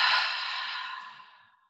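One long, breathy open-mouth exhale during a yoga session, airy and soft, fading gradually over nearly two seconds with no talking.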